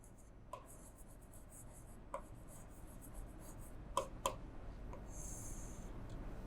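Writing on paper gives a faint scratchy pen rasp under quiet room noise, with a few scattered soft taps, close and low with no talking.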